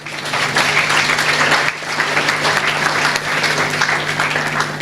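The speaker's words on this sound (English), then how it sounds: "I would just kindly ask for a round of applause for our speakers, panelists today" A room full of people applauds steadily for the speakers and panelists at the close of an economic summit, a dense, even wash of clapping that carries on without pause.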